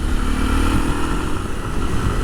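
A motorcycle engine drones on a road in California, a loud, steady rumble that stays close throughout without a clear rise or fade.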